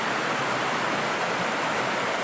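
Creek water along the Appalachian Trail flows as a loud, steady broadband rush, close by and continuous, with no voices.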